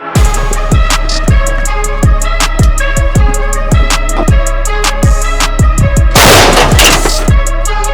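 Artillery guns fire in a rapid, steady series of loud booming blasts, with a sharper burst of crackling explosions near the end, during fighting near Chasiv Yar.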